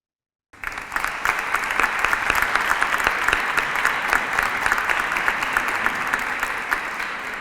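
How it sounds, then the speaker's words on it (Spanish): Audience applause at a citizen participation conference panel, starting suddenly after a short silence and then continuing as steady, dense clapping from a large room. "Le transmitiré este aplauso a Rosa"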